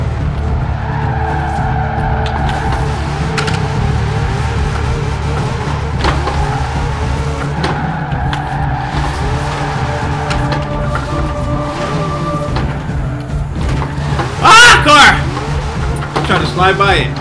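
Hoonigan Hoonicorn drifting in a racing video game with steering wheel and shifter, a steady engine drone with repeated tyre squeals and a louder skid burst near the end, heard alongside talk.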